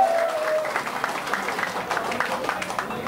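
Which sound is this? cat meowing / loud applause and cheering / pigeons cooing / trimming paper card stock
loud applause and cheering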